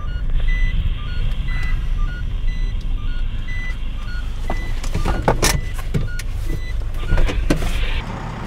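A car is parked with a steady engine idle under repeated electronic reversing beeps, followed by several sharp knocks and clunks near the end.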